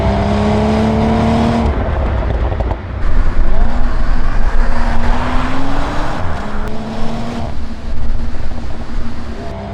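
A BMW Z4 or Toyota Supra drives hard, its engine rising and falling through gear shifts, with brief rough crackles and pops from the exhaust as it lifts off and downshifts, loud and close.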